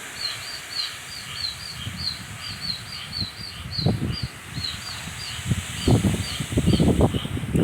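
Baby birds trapped in a rain gutter give faint, rapid, repeated high chirps as Hurricane Debbie approaches, over a steady low rumble of wind and rain with occasional thumps.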